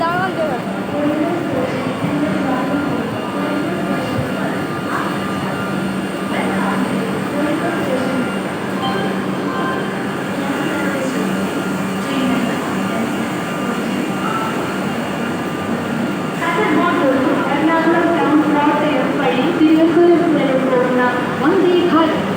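Vande Bharat Express train rolling through a station, a loud continuous rumble and rush that swells toward the end, with voices talking over it.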